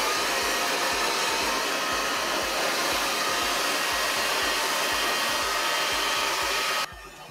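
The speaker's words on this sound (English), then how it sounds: "That's just it wrap dried and then a little bit of a round brush blow dry." A hair dryer runs loud and steady at close range while hair is wrap dried with a small Alpha Italia paddle brush, the airflow dropping suddenly near the end.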